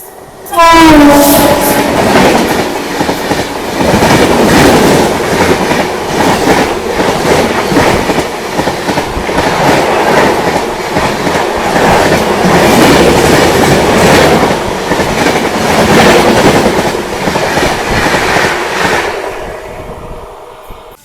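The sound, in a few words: train overtaking at Nimbora railway station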